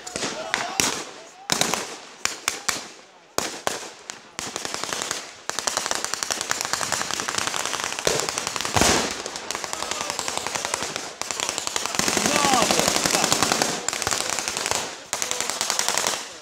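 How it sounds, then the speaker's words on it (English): Enfield rifles and a Thompson submachine gun fire at a war reenactment battle, a dense run of sharp bursts and rapid crackling shots across the whole stretch with brief pauses, loud and outdoors. "The Enfield rifles firing over the top of the Thompson submachine gun."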